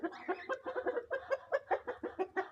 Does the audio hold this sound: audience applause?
no